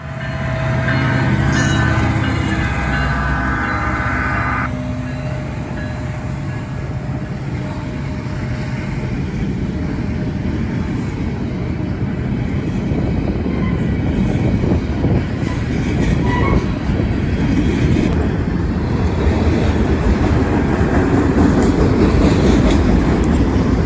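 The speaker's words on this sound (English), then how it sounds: "Here, passing that freight house at West Main Street, is eastbound 178." Eastbound Norfolk Southern freight 178, led by a single SD70ACE with two distributed power units at the rear, rumbles past a freight house at West Main Street, a loud steady roar of engines and rolling wagons at close range.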